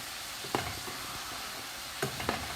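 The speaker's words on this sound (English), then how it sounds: "Your pasta's doing well here. It's all boiling" Penne pasta bubbles in a pot of boiling water, a quiet steady simmering hiss broken by a few soft clinks and stirring knocks from utensils.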